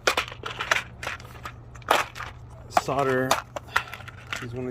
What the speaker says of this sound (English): So I have all this extra wire, so I'm just gonna go ahead and cut it